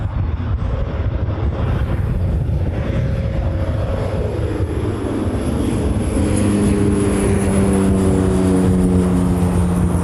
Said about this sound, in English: Next arrival is the United 777 coming in from SFO